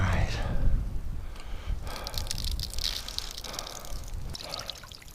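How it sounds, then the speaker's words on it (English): Water drains from a water line being emptied for winter, making a steady trickle and splash close by, with faint speech in places. "Time to drain the water line for winter."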